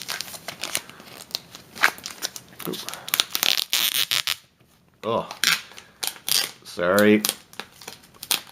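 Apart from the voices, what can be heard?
unwrapping the packaging of a Starfinder magnetic initiative tracker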